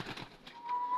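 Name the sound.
pigeon cooing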